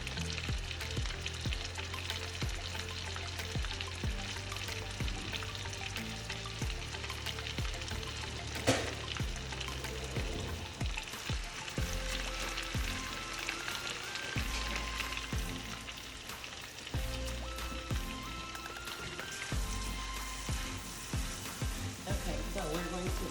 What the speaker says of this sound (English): We're gonna add garlic right to the pan. It gets really, really hot with the garlic.